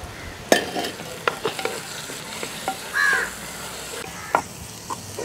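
Onions and tomatoes frying in hot oil for a South Indian crab curry, stirred with a utensil; scraping stir strokes and clinks sound close over a steady background sizzle, with brief sharper knocks scattered through.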